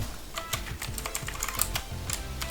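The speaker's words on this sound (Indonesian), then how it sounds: "untuk tanggal kita ketik saja di sini juga boleh" A computer keyboard clatters under steady close typing as a date is entered in an Excel spreadsheet, quick uneven keystrokes following one another with no talk.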